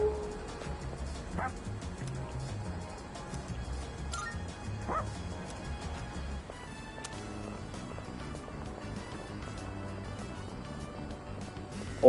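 Koromaru, the dog in the video game Persona 3 Reload, lets out a few yips and whimpering barks, scattered and fairly quiet over a bed of game music that runs throughout.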